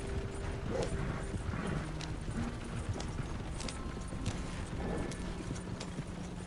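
Horse hooves clip-clop steadily beneath a wagon in Red Dead Redemption 2, a continuous rhythmic trotting over a rumbling ground bed, fairly close, with an occasional faint snort.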